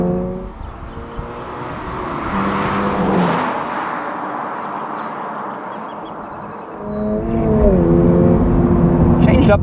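A 2022 Subaru BRZ's engine revs up under acceleration, its harmonic tone rising in pitch, easing off, then climbing again, with road and wind noise around it and a voice speaking over it.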